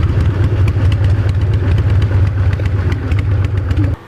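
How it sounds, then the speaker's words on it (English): A 1990 Harley-Davidson motorcycle engine idles close by, a loud, steady low rumble with a lumpy, even pulse that cuts off sharply near the end. "this thing's just a happy motorcycle"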